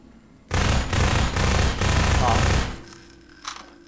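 Shotgun fire from the video game Half-Life 2 comes as a loud, close burst of rapid booming shots lasting about two seconds, then drops to quieter background game sound.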